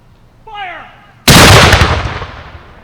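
A cannon volley fired at a War of 1812 reenactment of the Battle of Lake Erie, a single sudden thunderous blast that rolls and decays over a second or two, preceded by a shouted command.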